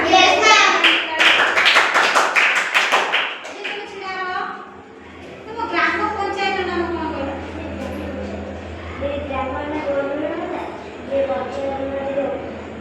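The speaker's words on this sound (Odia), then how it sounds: "ତାପରେ ତାଳି ମାରି ଦିଅ" Children in a classroom clap together in a brief burst of quick claps at the start, followed by a teacher and children talking.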